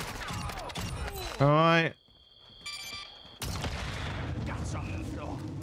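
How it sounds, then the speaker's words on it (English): Shotgun and other weapon fire echoes through a Call of Duty DMZ match in short loud bursts, mixed with game tones and someone talking over it. "So let's take out all the AI here. It's not too much here. You just get out your shotgun."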